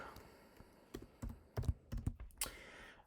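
A short burst of typing on a computer keyboard while entering a test message, with several distinct, quiet key clicks in an uneven rhythm, close and alone with no talking.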